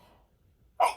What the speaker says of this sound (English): oh, hang on, I have to sneeze